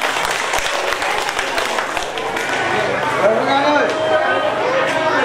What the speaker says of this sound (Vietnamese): Một tràng pháo tay cho thầy Nhật Kiếu.